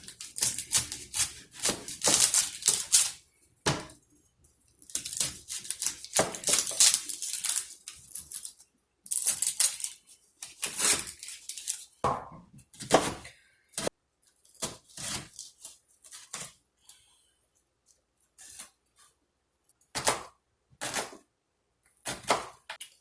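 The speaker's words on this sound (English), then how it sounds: "I'm going to chop this guy up." A knife chopping a medium-sized onion on a board, bursts of quick rhythmic taps separated by pauses, close and crisp with no talk.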